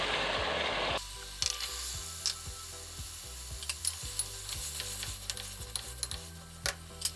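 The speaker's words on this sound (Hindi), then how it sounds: "मसाले की अब अच्छे से भुनाई कर लेते हैं" Spices and softened tomato are sautéed in a pan, a sizzle in the opening second giving way to repeated scraping and stirring clicks of a utensil against the pan, close and fairly loud.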